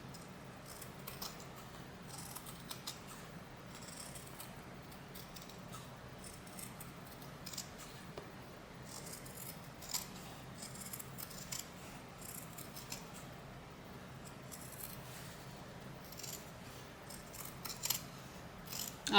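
Scissors snip a fabric lining down to a narrow seam allowance in quiet, irregular cuts, close but soft, with small rustles between snips and no talking.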